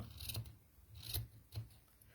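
Three short crisp snips of scissors cutting yarn, spaced about half a second apart, close and fairly quiet, with no voices.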